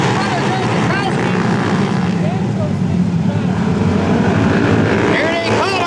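Vintage 1940 750 brakeless race cars at a dirt track, a continuous loud roar of engines close by, broken by wind gusts into the microphone, with no voices.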